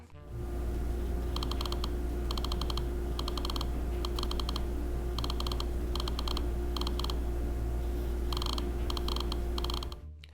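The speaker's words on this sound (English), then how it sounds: "the PCB actually has a small speaker that does make that iconic clicking sound when you do use the wheel" Modded iPod click wheel sounding through a small speaker on its circuit board, rapid bursts of crisp ticking clicks in irregular groups as the wheel scrolls, over a steady background hum, with no talking.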